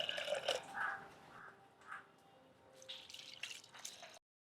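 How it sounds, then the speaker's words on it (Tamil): Water is poured into a pot of dal for sambar, with quiet gurgling splashes and drips that stop abruptly near the end. "இந்த பருப்பு அவியறதுக்கு தேவையான அளவு தண்ணி ஊற்றுவோம்"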